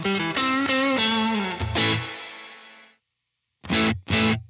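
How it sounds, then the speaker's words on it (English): Electric guitar played through the spring reverb of a Universal Audio Dream '65 amp pedal: a few loud strummed chords ringing out with a lingering wash that fades to silence, then two short stabbed chords, no talk. "that is the spring reverb in the amp, and it sounds absolutely fantastic"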